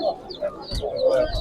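Chickens and roosters of the Japanese breed cluck and murmur in short bursts at a busy outdoor poultry market, fairly close, with thumps and low crowd noise underneath and no clear speech.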